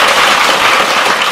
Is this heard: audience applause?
yes